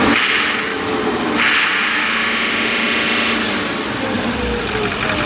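A Duramax 6.6 diesel engine revs under throttle, rising and falling in a steady loud roar heard close up, with one noticeable surge midway.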